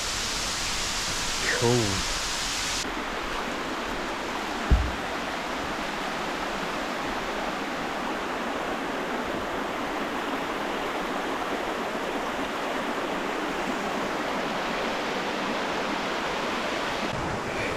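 Steady broadband rush of Fitzroy Falls waterfall near Sydney, heard from a wet, mossy fern-lined track, constant and enveloping, with a brief spoken word early and a single sharp knock partway through.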